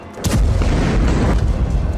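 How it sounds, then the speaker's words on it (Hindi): A missile strike in Beersheba explodes in a loud, close, low boom that rolls on as a sustained, rumbling roar with no voices. "देखिए किस तरीके से बीरशेबा में मिसाइल गिरी और उसके बाद तेज विस्फोट के बाद आग का गोला उठा"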